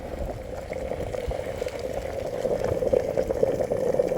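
Coolant boils and churns at 100 degrees in an overheating Nissan Almera with a stuck thermostat, a steady burbling hiss that grows slightly louder toward the end.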